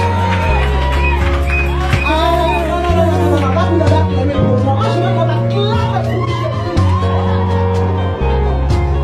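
A crowd at a church youth conference cheers and shouts acclamations over loud amplified music, voices whooping and calling out continuously across the whole stretch.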